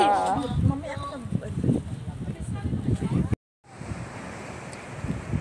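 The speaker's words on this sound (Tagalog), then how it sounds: "Ang lakas ng alon, no?" Ocean surf roars steadily at Sentinela Beach in Claveria, Cagayan, with heavy wind buffeting the microphone, and a person talks briefly near the start before a short cut.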